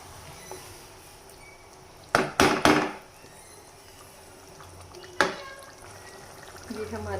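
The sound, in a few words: stirring boiled mash dal while mixing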